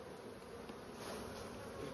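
A dense, steady hum of honeybees from a large colony, a continuous close buzzing that stays level and fills the whole stretch with no voices.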